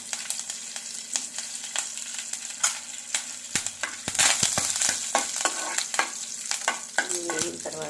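Cumin seeds, dried red chillies and neem leaves sizzle in hot oil for a South Indian yogurt dish, a continuous bright frying hiss broken by sharp pops, crackles and the scrape of stirring, close and loud.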